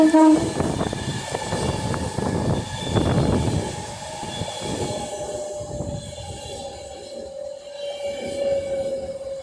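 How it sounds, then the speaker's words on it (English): An Avanti West Coast Class 390 Pendolino electric train pulls into Rugby station, with a rumbling pass of carriages, rail clatter and long tonal squeal lines that fade as it slows, heard close and without talk. "So now coming in is a Advanced West Coast Class 390 Pendolino running from London Euston to Manchester Piccadilly."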